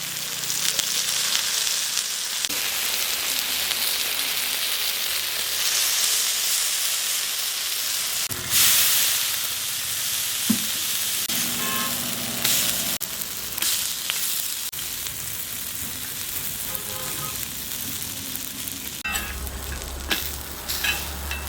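Spicy crab masala fries in oil on a flat dosa griddle, a continuous dense sizzle and hiss with intermittent scraping and stirring clatter, close and steady throughout.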